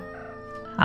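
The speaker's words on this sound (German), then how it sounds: "Nee, es war ein Huhn." Chicken clucking in the Sherlock Holmes Crimes and Punishments video game, a steady harmonic in-game tone and then a short, loud cluck-like burst right at the end, with nothing else over it.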